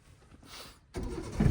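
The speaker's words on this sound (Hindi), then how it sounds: "अभी इंजन स्टार्ट करो" A car engine cranks and catches during a first driving lesson, a short muffled start followed by a louder rumble as the engine fires up close by.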